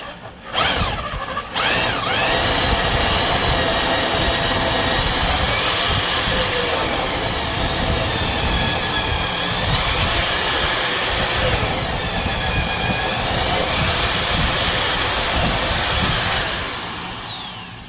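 A heavy 1/2-inch mixing drill motor whines loudly and steadily while drilling, its pitch sliding up and down as it bites and bogs, running close and nearly unbroken.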